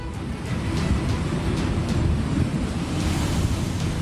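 Floodwater of the Narmada river rushes past after torrential rain, a loud, steady roar of churning water with wind noise buffeting the microphone throughout, no voices.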